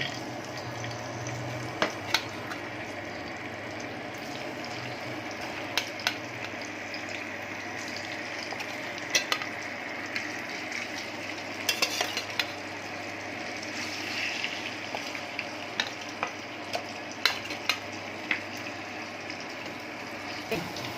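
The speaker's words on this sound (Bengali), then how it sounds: "এখন তেলটা গরম হয়ে গেছে, মাছটা একটু ভেজে নিব।" Fish coated in ground cumin, salt and turmeric frying in hot oil in a pan, a steady close hiss with scattered sharp crackles and pops spread across the whole stretch.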